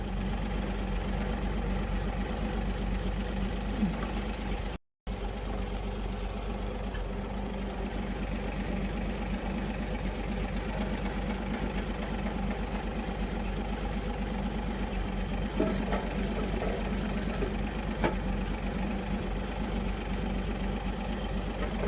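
A Chevy 235 inline-six in a 1962 Biscayne idles with a steady, even mechanical drone and light ticking, broken by one very short dropout near the start, with no talking.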